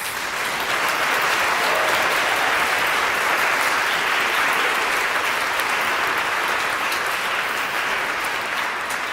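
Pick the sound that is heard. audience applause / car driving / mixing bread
audience applause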